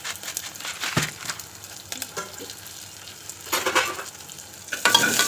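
Lentils frying in hot oil with onion, green chili and cumin, a steady close sizzle with intermittent stirring scrapes and a louder burst near the end.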